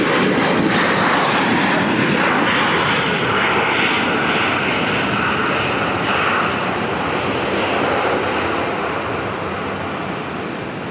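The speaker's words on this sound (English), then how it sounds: "we just caught another Alaska thrusting all the way down the runway like that and then coming to a stop" An Alaska Airlines jet roars down the runway at Portland's PDX airport, a loud, steady broadband engine rumble holding for the whole stretch and easing slightly toward the end.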